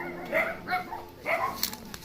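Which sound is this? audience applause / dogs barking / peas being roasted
dogs barking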